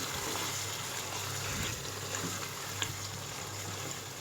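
Meat broth (yakhni) pours into a beef karahi gosht, producing a continuous soft gushing and splashing of liquid that stays fairly quiet and steady, without voices.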